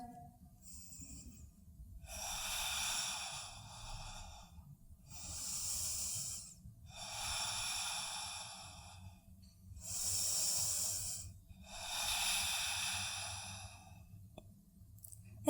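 Five long, slow ujjayi breaths during a yoga practice, each an audible throaty hiss rising and falling in even cycles, close to the ear, separated by short quiet pauses with a faint background murmur.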